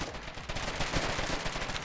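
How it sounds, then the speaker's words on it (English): A grenade launcher fires in a video game amid a busy, rumbling battle soundscape. Dense, moderately faint bangs and crackling shots run throughout. "That's definitely a grenade launcher."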